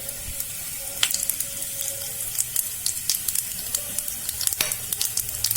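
Fenugreek, coriander and carom seeds sizzle in hot oil over a low flame for a dhaba-style curry, giving a continuous close crackling hiss sprinkled with small pops and spits.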